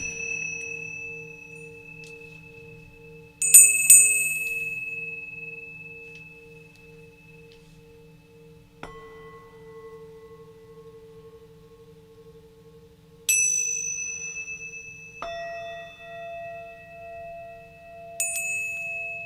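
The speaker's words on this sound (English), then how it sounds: "Tingsha, chime, anything metal at this point. I call it the bell transition" Tingsha, chimes and metal bells ring out during a sound bath: several bright metallic strikes spaced a few seconds apart, each sustaining and slowly fading over a soft steady tonal drone, calm and clear.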